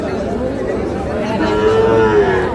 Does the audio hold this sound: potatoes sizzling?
no